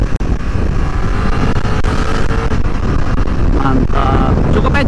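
A BMW F900R two-cylinder motorcycle engine drones steadily while being ridden, with loud wind buffeting on the microphone and a constant rumble throughout.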